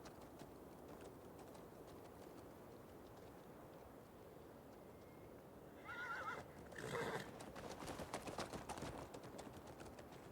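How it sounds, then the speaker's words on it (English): A horse whinnies in a video game, a short high neigh rising out of steady ambient background noise, followed by a louder burst of clip-clopping hooves and continued movement sounds. "First horse I tamed."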